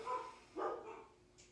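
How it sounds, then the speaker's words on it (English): Dogs bark somewhere in a house, quite faint and distant: two short barks about half a second apart, then near quiet. "It never fails that they bark while I'm trying to film."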